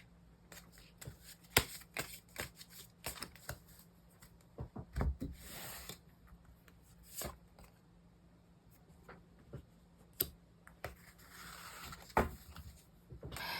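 Tarot cards being shuffled by hand in repeated quick riffling bursts and soft slaps, fairly close and moderately quiet, with a faint steady hum underneath and no talking.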